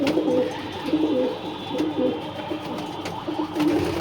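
Racing pigeons scuffle and coo close by, a steady run of throaty, overlapping coos with soft wing and body shuffles and no voices.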